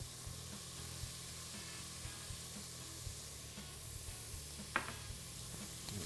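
Shrimp fry in a hot pan for a soup, giving a soft, even sizzle with a low hum underneath and light tapping as they are stirred, and one sharper clatter partway through.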